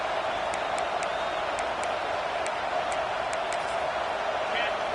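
Stadium crowd noise in the College Football 26 video game: a steady, distant roar of a large crowd that holds level throughout, with faint scattered shouts and whistles on top.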